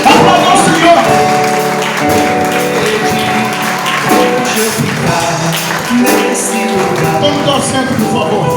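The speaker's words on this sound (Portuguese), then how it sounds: "Quem recebe essa palavra, aplauda o nome do Senhor bem forte" A church congregation claps loudly during an evangelical service, with steady, dense clapping running throughout alongside music and voices.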